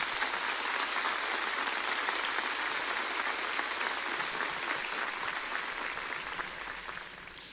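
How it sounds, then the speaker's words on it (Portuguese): A church congregation applauds during a sermon, a dense and sustained wash of clapping from many hands that tapers off slightly toward the end. "Você pode aplaudir a Jesus."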